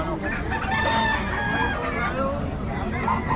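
A rooster crows loudly nearby in a Philippine yard among other chickens, with a long drawn-out call followed by another, while faint murmuring voices sit underneath.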